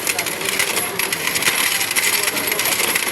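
Saved coins from a coin-operated rental computer shop business poured out in a continuous metallic jingling cascade that lasts steadily throughout, close and fairly loud.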